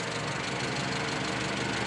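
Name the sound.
engine lifter tick on a Mazda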